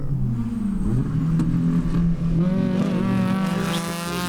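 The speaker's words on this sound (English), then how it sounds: "It's driven by Paul McNamara, and that's a beautiful car" A Datsun 350Z race car passes on the Sebring race track. The engine drones loud and steady, with pitch shifts as it goes by, and there is no talk.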